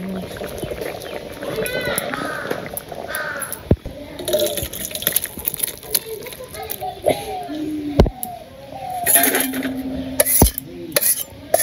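A cooking pot of eggplant and mutton curry is handled and lifted off the heat in a village kitchen, with sharp metallic clanks and scrapes amid talk, crows cawing and running water nearby.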